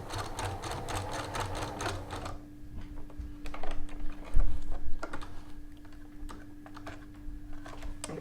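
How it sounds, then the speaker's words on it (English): A sewing machine runs a wide zigzag stitch across zipper teeth, fast and loud for about two seconds, then stops, leaving quieter clicks and handling noises. "I set my machine to a wide zigzag"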